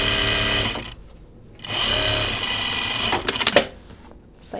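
A sewing machine runs in loud, close bursts while edge stitching fabric patch cargo pockets for a closet organizer, two sustained whirring runs separated by a pause, then a cluster of sharp mechanical clacks and a brief restart.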